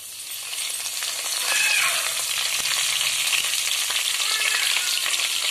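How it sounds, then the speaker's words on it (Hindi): Mustard seeds and green chillies fry in hot oil for poha, giving a steady, loud, close sizzle with faint crackles and pops. There is no talking over it. "हमारा ऑयल गर्म हो चुका है, इसमें हम सबसे पहले राई ऐड करेंगे और फिर ये मिर्च, दोनों को पकने दे रहे हैं।"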